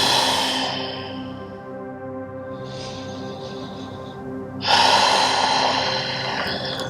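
Deep yoga breathing during a slow yin flow: a long audible inhale or exhale fading out, a quieter breath in the middle, then a strong, close, noisy breath that tapers off, with no talking.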